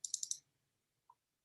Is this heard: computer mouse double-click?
yes